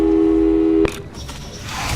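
A steady telephone busy tone drones in Portal 2, a continuous beep that cuts off abruptly partway through, leaving quieter room and game noise behind.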